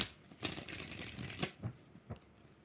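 Tarot cards are shuffled at close range in a few quick riffling bursts, each a sharp papery flutter with short pauses between, followed by lighter taps as the deck settles; no one speaks.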